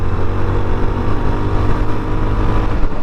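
Yezdi Scrambler motorcycle ridden hard at speed in high gear, with a loud, steady engine roar and heavy wind rush close to the rider, no talk.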